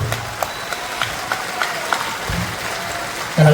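A large religious gathering led by Bageshwar Guruji claps to welcome daughters whose weddings were announced: scattered, somewhat distant claps over a soft crowd murmur, ending with a louder burst of noise.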